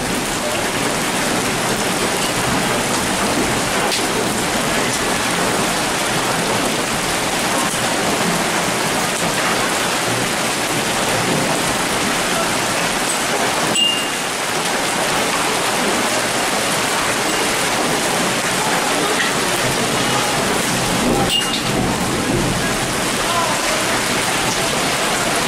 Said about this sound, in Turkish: Kocaeli'nde dolu yağmaya başladı.